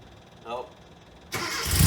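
A Classic Mini SPI engine on choke cranks and catches on a cold day, the starter whir giving way to a loud, rough idle right at the microphone, with someone speaking briefly beforehand.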